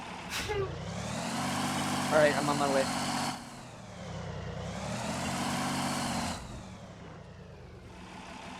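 A military truck engine in Arma 3 growls and revs in rising and falling waves, swelling loud, easing off, then surging again, while someone briefly speaks over it.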